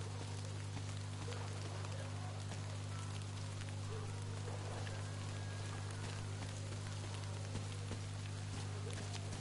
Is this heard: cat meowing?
no